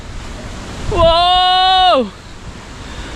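Strong wind buffets the microphone in a constant rushing roar while a voice lets out a short exclamation partway through.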